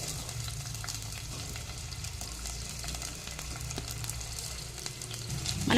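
Onions sizzle and crackle in hot oil in a pan, a soft, steady frying hiss with small pops throughout.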